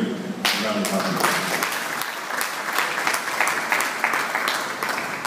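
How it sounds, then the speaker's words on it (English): Audience applause at a media-freedom event in Rivers State, Nigeria: a dense, steady crowd clapping that starts right away, continues evenly for about five seconds at close range, with a little speech mixed underneath. "Please let us give them a round of applause."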